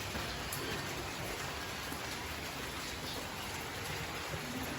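Rain falls steadily outside in a constant, even hiss of drops on surfaces, unbroken and without voices.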